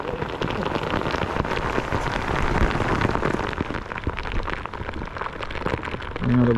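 Hard, steady rain drums on a fishing boat out on Kentucky Lake, a close and constant wash of droplets, with a brief louder burst near the end.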